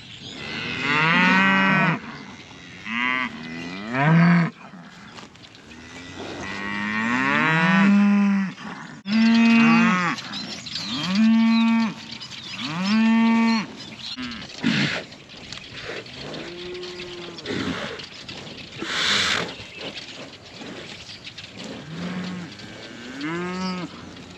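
Cattle bawling in a paddock, a long series of loud, drawn-out moos from several animals close by, coming in overlapping calls with short gaps throughout.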